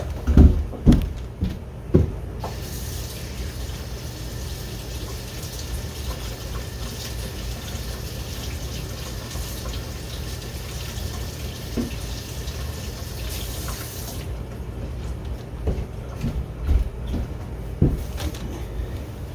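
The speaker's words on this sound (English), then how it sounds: "let's quickly rinse that off" A steady, loud stream of tap water rinses a bluing-treated part of a Stevens double-barrel shotgun, running continuously for about twelve seconds, with clunks and handling knocks at the start and end.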